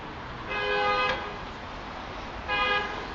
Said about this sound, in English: The learner slows down and gives way, and then gets beeped.